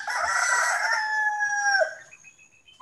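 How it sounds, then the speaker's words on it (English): A rooster crows once in a long, drawn-out call that trails off, heard clearly and fairly close with no talking over it. "You got some rooster going off?"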